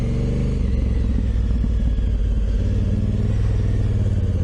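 A Honda Africa Twin motorcycle rides off-road over lumpy ground, its engine a loud, steady low rumble with shifting revs as the gears change, heard close with no talking.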